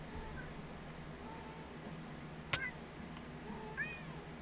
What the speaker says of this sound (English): Cat woke up when I moved.